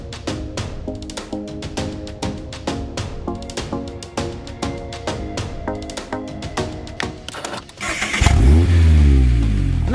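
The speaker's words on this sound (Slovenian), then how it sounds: "Nakon startovanja motor se oglašava zvukom koji odmah donosi osmijeh na lice." The 184-horsepower Skyactiv petrol engine of a Mazda MX-5 30th Anniversary edition comes to life and revs, its sharp crank and climbing roar rising loud and close at the end after a rhythmic lead-in.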